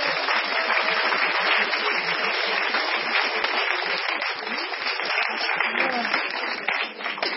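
Sustained applause and cheering from a church congregation acclaiming Jesus, a dense, steady wash of clapping that fills the whole stretch without pause.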